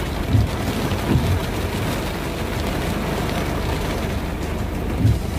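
Steady, heavy rain pours without a break, a dense hiss with a few low rumbles underneath.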